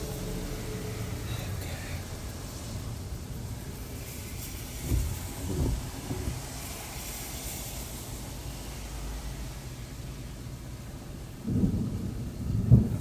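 Thunder rumbles through steady rain during a storm chase on the Great Plains, with a couple of low booms in the middle and a louder, closer rumble near the end.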